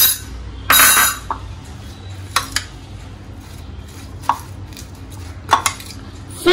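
Thai salad being tossed with its soy and fish sauce dressing in a bowl, with a few short scraping and clinking bursts of utensil against dish spread over a quiet background.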